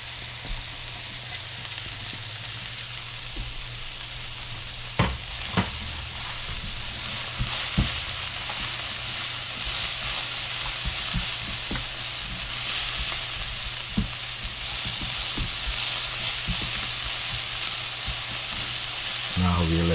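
Garlic, scallion and carrots sizzle steadily in a hot pan, a loud continuous frying hiss broken by occasional clacks and scrapes of a stirring utensil, with no one talking.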